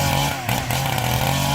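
A Husqvarna 372 XP chainsaw runs loud and close, a steady buzzing engine drone with a slight dip in pitch and level partway through.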